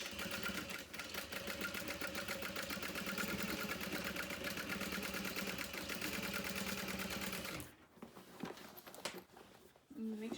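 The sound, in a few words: sewing machine backstitching bag fabric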